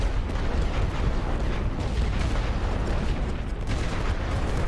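Artillery barrage in The Great War: Western Front, a First World War strategy game: a dense, unbroken roar of overlapping explosions and rumbling blasts, loud and close, with no pause across the stretch.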